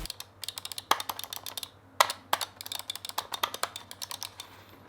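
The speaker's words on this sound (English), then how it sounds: "in terms of how the mouse click sounds," Rapid clicks from a gaming mouse, either a Razer Deathadder V2 or a Logitech Pro X, heard up close and alone as a fast, irregular run of sharp taps with a few louder clicks standing out.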